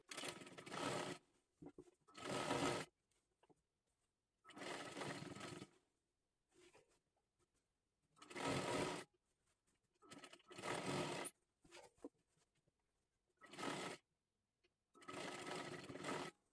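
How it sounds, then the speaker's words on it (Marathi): A sewing machine runs in short repeated bursts, about eight quick close whirring runs separated by pauses, double-stitching the waist of a kathpadar sari for an 11-to-12-year-old girl. "आता ह्याच्यावरती परत एकदा आपल्याला डबल शिलाई मारून घ्यायची आहे"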